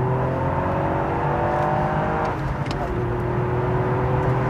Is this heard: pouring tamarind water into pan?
no